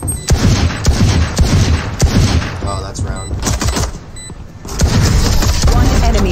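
Valorant gunfire on the Pearl map, loud rapid rifle shots in bursts with impact cracks and effects, a short lull midway before the firing picks up again, with players talking over it.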